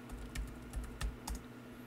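A password is typed on a computer keyboard to log in to a SQL database: a short, quiet burst of close key clicks in an uneven rhythm.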